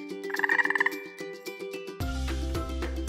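A cartoon frog croaks in a rapid burst of about eight bright, rhythmic ribbits, then a few scattered calls over a light musical backing that swells louder partway through.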